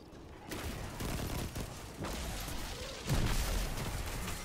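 Grenade explosions in a Destiny 2 firefight, heard as a dense wash of booming blasts and gunfire with several heavy thuds, the loudest deep blast landing near the end.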